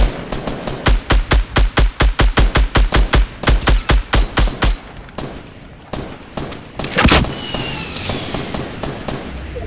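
Rapid bursts of gunfire in Fortnite Battle Royale, a fast evenly spaced string of loud shots for several seconds, then scattered fainter shots and a single heavy blast like an RPG rocket.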